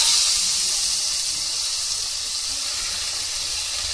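Chopped onion and garlic sizzling in hot oil in a kadai, a loud, steady hiss that eases slightly after the first moment and holds on alone.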